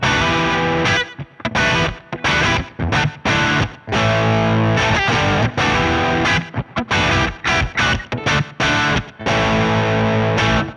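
Loud distorted electric guitar plays chopped riffs with abrupt stops and restarts, a cleaner tone blended under the heavy fuzz, through a KMA Machines Guardian of the Wurm distortion/gate pedal with its clean blend on, chainsaw-metal HM2-style tone.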